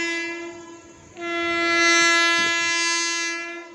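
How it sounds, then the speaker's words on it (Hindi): Train passing near coconut palms in Tamil Nadu, sounding a loud sustained horn whose tone holds steady and swells over a few seconds above a rumbling background. "ट्रेन भी एक आ रही है"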